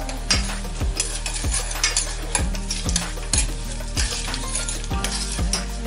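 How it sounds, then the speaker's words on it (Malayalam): Grated coconut and sesame seeds sizzle in hot ghee while a spoon scrapes and stirs the pan in repeated strokes, close and steady, with no talking. "ഇനി നമുക്കിതിലേക്ക് 1 ടീസ്പൂൺ എള്ള് കൂടെ ചേർത്തെടുക്കാം."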